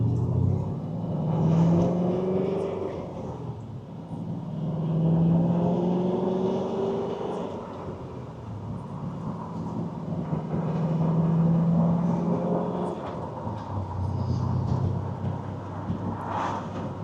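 A 2004 Pontiac GTO with a manual gearbox drives along, its engine drone rising and falling steadily through several gear changes, with a continuous low rumble throughout.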